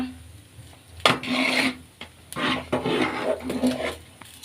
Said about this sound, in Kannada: ಈಗ ಒಂದ್ಸಲ ಕೈ ಆಡಿಸ್ಕೊಳ್ಳೋಣ ಮಿಕ್ಸ್ ಆಗಲಿ ಈಗ ಚೆನ್ನಾಗಿ ಮಿಕ್ಸ್ ಮಾಡ್ಕೊಳ್ಳೋಣ